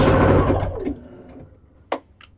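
A sewing machine stitching quilting fabric at a quarter-inch seam runs loud and close, then slows and stops, followed by a couple of small clicks.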